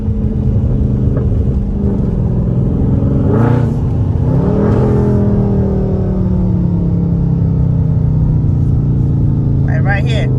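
A Dodge SRT pulls away from a stop sign in second gear, its engine rumbling loudly and rising in pitch as it accelerates, then settling into a steady drone while a person talks.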